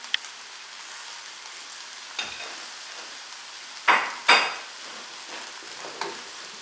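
Plain boiled spaghetti being stirred in a pot, with a few soft scraping, squelching strokes over a steady faint sizzling hiss, no voices.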